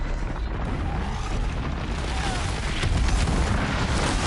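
Thunderjaw laser cannons fire in the video game Horizon Zero Dawn, a loud, dense wash of booming blasts and crackling bursts that overlap continuously and swell slightly toward the end.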